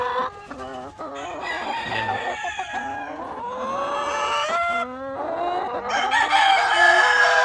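Hens and a rooster call close by on a poultry farm, with repeated loud crowing and clucking that overlap and rise in pitch. The calls come one after another through the whole stretch, with no talking.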